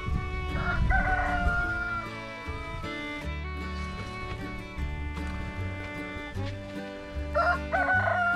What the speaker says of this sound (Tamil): இந்த கோழியை இது சேவல்.